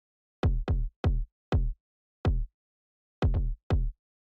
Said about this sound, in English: I managed to make an alright sounding remake of the kick drum, but it's still not great.